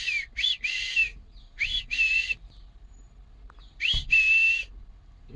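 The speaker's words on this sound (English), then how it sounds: "You recognize the whistle." Three pairs of shrill, rising-then-steady whistles, evenly spaced with short gaps between, loud and clear over a quiet outdoor background.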